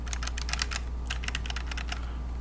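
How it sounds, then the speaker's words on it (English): Buttons, bumpers and triggers on a retro video game controller are pressed in rapid succession, making a string of small, sharp plastic clicks up close and quiet, with no talking. "triggers, joysticks click, joysticks rotate, D-pad is operational"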